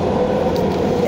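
Steady train ride noise: a loud, continuous rumble and hum inside a moving train, with no talk.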